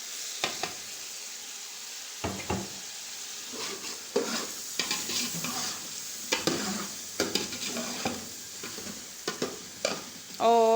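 Chicken powder, white cumin and garam masala get stirred into a sizzling pot for vegetable biryani, with a soft background fry broken by a series of sharp spoon scrapes and clinks against the pot.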